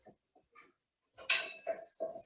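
A spoon scraping and clinking against a cooking pot during dinner prep, a few soft taps followed by louder metallic scrapes and knocks at close range.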